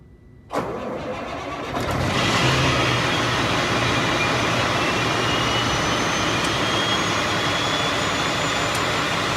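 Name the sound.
Freightliner truck running, put in reverse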